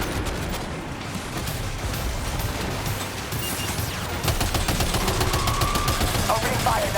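Rapid gunfire from the video game Death Stranding 2, sustained bursts of automatic shots that grow louder and denser toward the end over a rumbling game soundscape.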